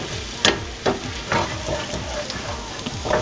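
Potato and egg hash sizzles and fries in a pan while a utensil stirs it, with steady hiss and a few louder scraping strokes throughout.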